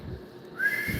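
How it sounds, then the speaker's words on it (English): A man with missing teeth tries to whistle, producing a breathy, wavering tone that rises briefly near the end, faint and close. "nah, I can't whistle right. I got too many teeth missing."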